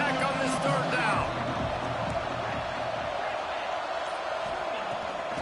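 Football stadium crowd roaring on a third down, a dense, steady wash of cheering and noise that stays loud throughout, with a commentator's voice over the top.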